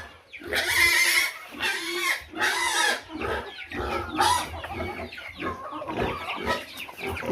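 Chickens cluck close by in repeated loud bursts, rising and falling, with softer clucking and some background voices between them.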